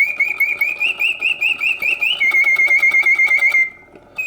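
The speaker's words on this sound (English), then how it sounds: "The bird sings with full voice, hitting all the proper oscillating notes." A vintage Karl Griesbaum mechanical singing bird in a cage trills loudly and close by, with rapid warbling phrases that rise and fall, then a steady oscillating whistle that stops abruptly near the end.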